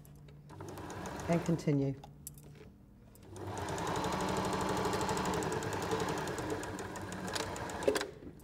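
Sewing machine stitching a zipped pouch, a fast steady mechanical chatter running for several seconds after a short earlier burst, with a voice speaking nearby.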